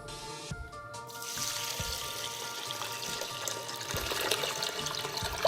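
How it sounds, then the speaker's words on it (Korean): Glutinous rice is washed gently by hand in water for homemade makgeolli, giving a close, continuous sloshing and trickling with small splashes throughout and no voices. "준비한 찹쌀을 맑은 물이 나올 때까지 꽉 움켜쥐지 말고 살살 씻어줍니다."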